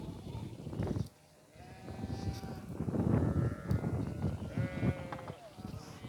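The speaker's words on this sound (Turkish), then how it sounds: "Şuna bak bebeklerine ya kara koyunun adı Kübra olsun" Sheep and lambs bleat repeatedly on a village farm, several overlapping calls close by, with livestock shuffling and a background of outdoor noise.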